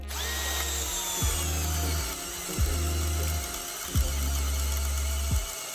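A cordless drill with a spade bit struggles to bore a 1-inch hole, its motor droning loudly and steadily, then bogging down and dipping in pitch in about four repeated stalls as the bit binds.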